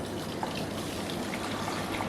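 Water dissolved with yeast is poured in a steady gush over bun dough ingredients. The pour is close and continuous, with a light splashing texture, and no voices are heard.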